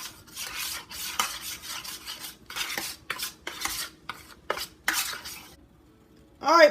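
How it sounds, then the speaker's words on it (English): Utensil scraping and clinking around a bowl as dry seasonings — salt, onion powder, garlic powder, cayenne, white pepper — are mixed for Southern fried okra, in irregular close bursts with no talk. "And give that a stir."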